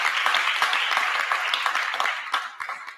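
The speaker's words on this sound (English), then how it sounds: "Give her a warm round of applause." Warm applause from an audience at a public meeting, steady dense clapping throughout that tapers slightly toward the end.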